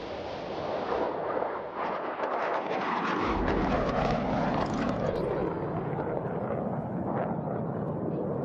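F-16 Fighting Falcon jets of the 64th Aggressor Squadron roar down the runway on their takeoff roll at an airshow, a broad, continuous, loud jet rumble that swells and holds.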